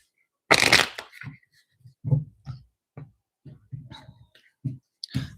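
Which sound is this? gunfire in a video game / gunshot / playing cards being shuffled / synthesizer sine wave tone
playing cards being shuffled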